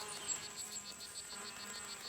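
Male orchid bees hover near orchid flowers, giving a steady, faint insect buzz with a fast pulsing rhythm that runs throughout, with no voices.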